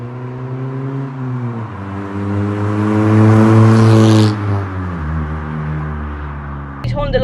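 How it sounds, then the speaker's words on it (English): A modified Honda with a loud aftermarket exhaust revs up and holds a high drone, then drops back, with shifting engine pitch close by. Someone talks over it at the start and end. "Let me know what you think of the exhaust, because I love it. It is very loud."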